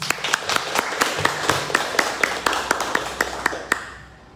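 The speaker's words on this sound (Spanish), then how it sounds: "yo pido a todos los presentes que la recibamos con un fuerte aplauso" Audience at a conference on revolutionary women in Chiapas clapping to welcome a speaker, sharp, evenly spaced claps in a steady rhythm, fairly loud and close, stopping abruptly near the end.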